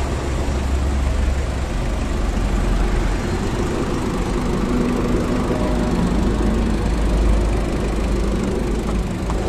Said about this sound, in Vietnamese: máy thì đang chạy thế nhưng mà máy cực kỳ êm luôn